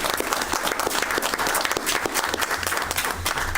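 Sustained applause from a crowd at a town Select Board meeting, dense steady clapping at even loudness throughout, with faint voices mixed in.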